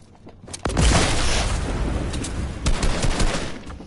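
Fortnite gunfire rings out: a sniper shot and heavy bursts of rapid weapon fire with booming impacts, loud and dense, fading slightly then flaring again near the end.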